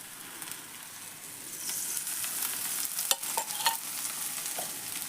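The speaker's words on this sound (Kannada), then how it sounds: "ಮತ್ತೊಂದು 2 ನಿಮಿಷ ಸುಡ್ಲಿರಿ ಇದು" A thalipattu flatbread made from leftover rice fries in oil on a pan, making a continuous close sizzle that swells slightly midway, with a few sharp ticks and pops.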